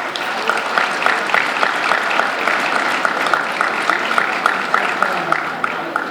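Steady audience applause at a community event, many hands clapping together with some individual claps standing out in a loose rhythm, continuing evenly throughout.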